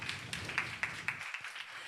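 A small audience at a deep-tech accelerator demo day gives a thin, scattered round of claps after a startup presentation on a car for wheelchair users, a few distinct hand claps quickly tapering off.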